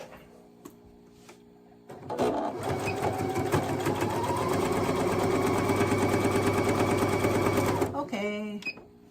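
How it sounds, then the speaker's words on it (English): A domestic sewing machine stitches a center back seam in one steady continuous run of about six seconds, fairly close, with brief quiet handling before and after. "Let's sew a center back seam."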